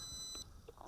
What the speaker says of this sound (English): listen to how it beeps. It beeps until you bind the quadcopter with the transmitter.